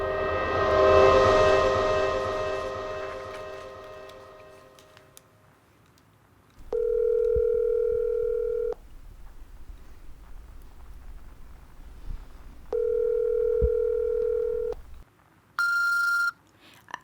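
A telephone rings for an incoming call in a French-language radio drama: two long steady electronic rings separated by a pause, following a fading tonal chord, with a brief higher beep at the end.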